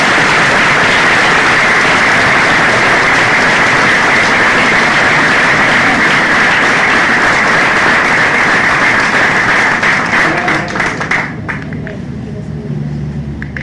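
Loud, dense applause from an audience for the teacher at a spiritual talk, a steady wash of clapping for about eleven seconds before it thins and fades.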